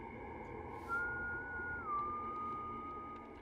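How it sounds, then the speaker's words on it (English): A single sustained whistle holds a steady tone for about two seconds, stepping down slightly in pitch partway through, over faint background hum. "the three of you hear a whistle"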